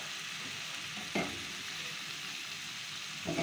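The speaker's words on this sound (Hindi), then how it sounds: "जब इसका कलर बिल्कुल वाइट हो जाएगा तब तक मैंने इसको भूनते रहना" Marinated boneless chicken frying in a spoonful of oil in a handi, giving a steady, even sizzle throughout, with two brief stirring scrapes, and no talk over it.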